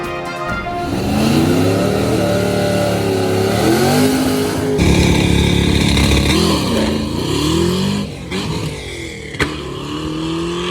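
A nitrous Fox body car roars through a drag race pass, its loud engine rising in pitch through each gear with brief dips at the shifts, heard alone with no talk.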